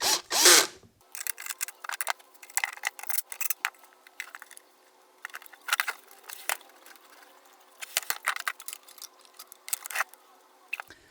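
A power drill drives bolts back in during a GT lower kit install, firing in short whirring bursts with pauses in between, close up and moderately loud, with no talk.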